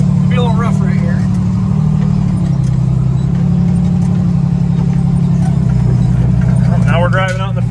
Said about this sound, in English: I'm busy driving this truck